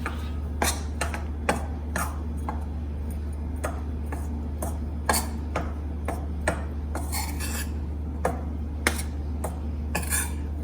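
Khaman dhokla batter is stirred with citric acid in a bowl: a spoon clinks and scrapes against the bowl in irregular knocks over a steady low hum.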